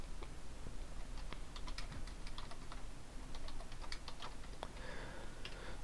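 Rapid keystrokes on a computer keyboard as a Google search is typed, an irregular run of close, crisp clicks with no talking.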